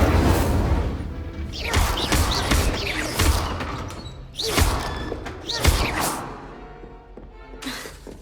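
Incendio fire spell cast repeatedly in Hogwarts Legacy, a series of loud whooshing, crackling bursts with heavy thumps, several blasts in quick succession spread across the clip.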